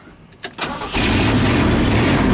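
An old truck engine, roughly fifty years old, cranks briefly with a few uneven starter bursts, then catches and settles into a loud, steady idle close by.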